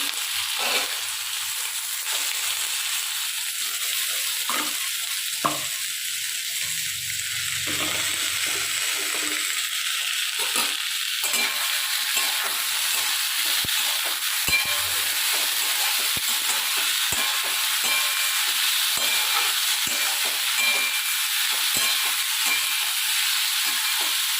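Continuous loud sizzling and hissing of food frying in oil, steady for the whole stretch with a few soft clicks and stirring sounds.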